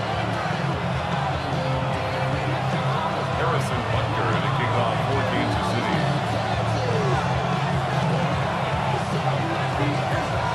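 A stadium crowd at Wembley in the Madden 26 football game, a dense, steady roar of cheering and murmuring under a commentator's voice, continuous and full throughout.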